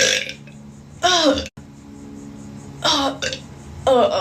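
Loud, close human burps produced on command, three separate belches spread across a few seconds with quiet pauses between them.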